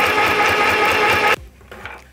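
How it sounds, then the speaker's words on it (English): A mini sewing machine stitches through denim with a steady, fast mechanical whir and rhythmic needle pulses, loud and close, then stops abruptly, leaving faint handling noises. "we're gonna sew this piece of denim together"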